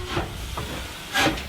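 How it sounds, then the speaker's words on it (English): Short bursts of steam hissing from a 100-year-old steam locomotive, one near the start, a softer puff in the middle and a louder, breathier release toward the end, all close by. "a little bit of hissing, smoke coming out the top"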